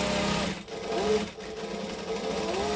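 A sewing machine backstitching on a garment piece, a continuous close mechanical whir that briefly slows and dips twice before running on steadily.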